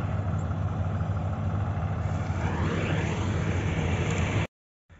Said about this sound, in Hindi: ट्रैक्टर चला आया।